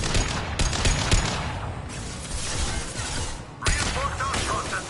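Rapid shotgun blasts and heavy gunfire in a Mass Effect 2 firefight, loud, dense and repeated, with sharp bursts near the start and a renewed volley near the end, mixed with game combat noise.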